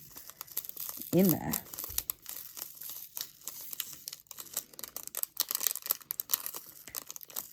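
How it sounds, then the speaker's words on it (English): A crinkly plastic pack of diamond painting drills cut open and poured out: a brief snip, then rustling crinkles and a dry rattling patter of tiny beads, close by, with a person talking briefly. "I'm just going to cut the corner off this one. And I'm just going to whack that"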